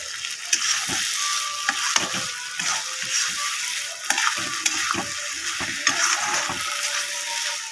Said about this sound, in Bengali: মশলাটার সঙ্গে ডালটাকে ভালো করে কষিয়ে নেব